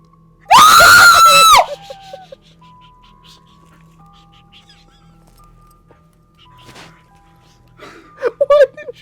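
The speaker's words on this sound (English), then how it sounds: "Why did you scream?" A girl lets out one loud, piercing scream lasting about a second, followed by quiet room tone and a few faint sounds before brief talking near the end.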